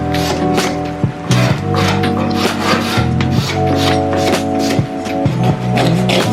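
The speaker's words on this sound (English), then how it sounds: "We're finally done scraping the wood" Wood is scraped off a piece of street-found furniture in a steady run of rasping, rubbing strokes, close and fairly loud, with music playing underneath throughout.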